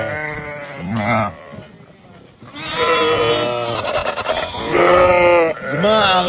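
A flock of tall sheep bleats loudly and close by, several overlapping wavering calls in bursts, with someone speaking between and under the bleats.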